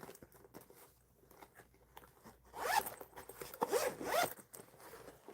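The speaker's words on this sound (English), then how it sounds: "Or you can unzip it" A bag's zipper is pulled open in several quick, close rasping strokes, the zipping sounds clear and crisp after a few soft handling noises.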